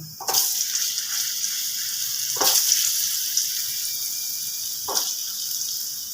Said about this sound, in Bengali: সবজিগুলোকে ছেড়ে দেব ভাজার জন্য